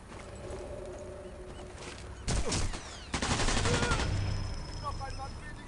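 Gunfire in Sniper Elite 4 played on an iPad, with a couple of sharp, loud shot bursts and crackling echoes rising from a quieter game ambience, followed by softer mechanical clicks.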